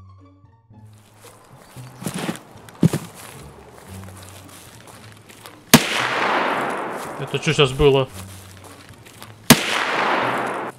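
Gunfire in the video game Escape from Tarkov: scattered distant cracks early on, then two sharp loud shots with long echoing tails, as players talk over the scene.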